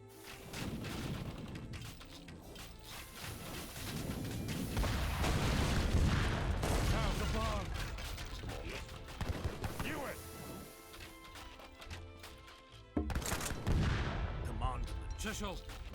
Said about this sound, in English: Sir, one of the explosions has revealed another passage.